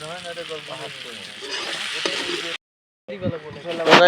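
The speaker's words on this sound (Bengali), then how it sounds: "এতিয়া মাংস গোটাই মছলা পাতি দি কেনে বহাই দিছোঁ এতিয়া ভাজি আছোঁ" Meat fries with spices in a pan, a sizzle that runs under close talking, breaks off briefly, then comes back with a sharper burst near the end.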